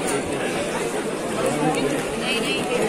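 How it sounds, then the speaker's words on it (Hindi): A dense crowd packs around a noodle stall at a busy trade fair in Delhi, a steady wash of overlapping chatter and babble with no single voice standing out. "नूडल्स खाने के लिए भीड़ लगी है भाई।"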